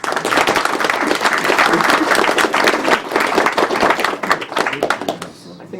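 A crowd at a live speedrunning charity marathon claps steadily and densely, with chatter mixed in, the applause thinning out near the end.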